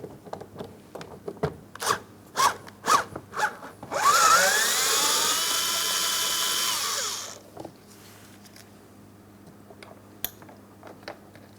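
A power tool whirs steadily for about three seconds, loosening a 10mm mounting bolt inside a port on a 2004-2008 Pontiac Grand Prix front door, framed by scattered clicks and taps of handling before and after.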